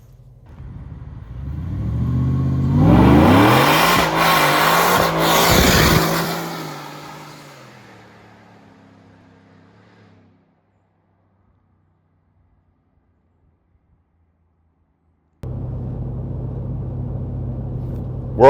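A supercharged Ford F150 pickup with an MBRP exhaust revs and accelerates hard nearby, rumbling loudly before fading away; after a silent gap the low exhaust drone returns at steady volume.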